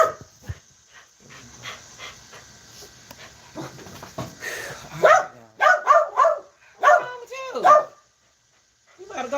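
A dog barks several times up close, sharp loud bursts near the end, with softer panting and whimpering sounds before them.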